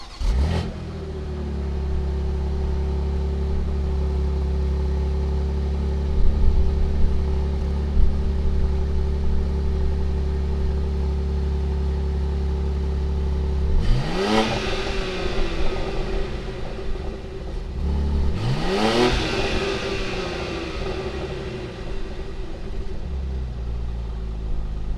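A 2020 BMW X4 M starts with a quick crank and settles into a steady rumbling idle, then two sharp throttle blips rise and fall, loud and close.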